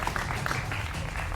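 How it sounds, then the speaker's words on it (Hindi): Applause from a studio audience at a televised Bihar election debate. The clapping is a dense, moderately loud patter that holds steady throughout, with no clear voices over it. "जोरदार तालियों के साथ आप तमाम लोगों का अभिनंदन है।"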